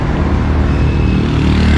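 Cars climbing a steep road in Antipolo rumble past at close range as a steady, loud engine drone with a faint higher whine, continuous throughout with no voices.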